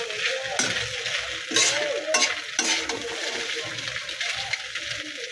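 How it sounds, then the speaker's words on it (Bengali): Maggi noodles are stirred in a frying pan with tomato, cabbage, carrot, potato and beans. A close sizzle comes with repeated spatula scrapes and clanks against the pan. "এখন নেড়ে চেড়ে মিশিয়ে নেব, সবজিগুলোর সাথে নেড়ে মিশিয়ে নেব নুডলসগুলো।"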